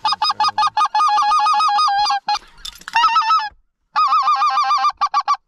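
Specklebelly geese flying in during an Alberta goose hunt, loud repeated honking calls in rapid clustered bursts, several birds overlapping, close and clear with brief pauses between volleys.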